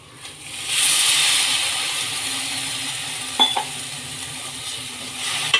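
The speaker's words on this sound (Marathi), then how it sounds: "मसाला आपल्याला 5 मिनिटं परतून घ्यायचा आहे।" Konkani masala paste of roasted fresh and dry coconut and onion, thinned with a little water, sizzles in a pan as it is sautéed, a steady close hiss broken by a few scraping stirs.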